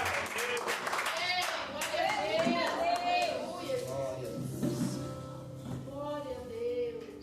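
A church congregation claps as members sit down, scattered hand claps mixed with prominent voices calling out and speaking over the clapping.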